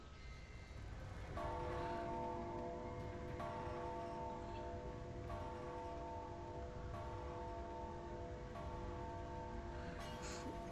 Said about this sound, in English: Shatter the crystals with loud ringing bells.